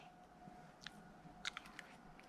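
Someone chews fresh, freshly washed fruit just picked from a backyard tree, giving a few soft close bites and moist crunches over a quiet room hum.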